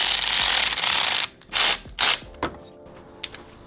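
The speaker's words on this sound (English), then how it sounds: "Now we're gonna tighten the lower hose clamp for the intercooler." A ratchet or driver whirs steadily, then gives a few short, separate clicking bursts while an intercooler hose clamp on a turbo intake is tightened, close up with no talking.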